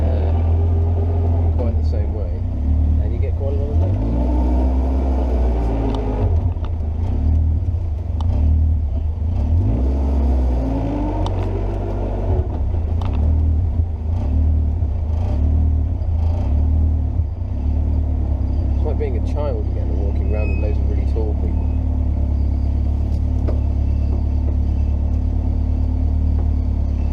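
Caterham Seven 270S sports car driving, a steady low engine rumble and road roar that swells and eases with throttle, continuous throughout while someone talks over it.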